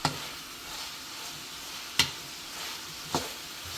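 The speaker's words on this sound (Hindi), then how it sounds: "तो हम इसमें बंद गोभी ऐड करेंगे, इसको भी अच्छी तरह मिक्स कर लेंगे।" Shredded cabbage, carrot and capsicum being stir-fried in a pan, a soft steady sizzle with a few sharp scrapes and clinks of a spoon against the pan, close by and with no voices.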